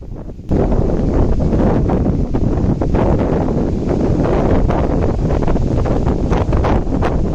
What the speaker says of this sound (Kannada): ಮಳೆ ಜೋರಾಗಿ ಗಾಳಿ ಮಳೆ ಎರಡೂ ಸ್ಟಾರ್ಟ್ ಆಗಿಬಿಡ್ತು